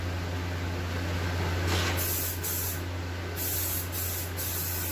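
Rust-Oleum peel coat sprayed from an aerosol can onto ATV plastics, a close, steady hiss in several bursts of varying length over the constant low hum of a running fan.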